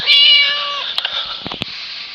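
A cat in the Scary Teacher video game meows once, loud and drawn out, then a few soft clicks and game sounds follow.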